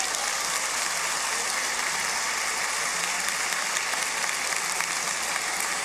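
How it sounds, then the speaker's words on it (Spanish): Dense applause from an audience in a gymnasium during a municipal public accounts ceremony, a steady, bright roar of many hands clapping that runs continuously and evenly throughout. "Un fuerte aplauso para ellos."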